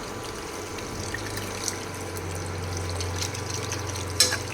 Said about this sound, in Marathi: पाणी करून घेतले ते टाकून घेते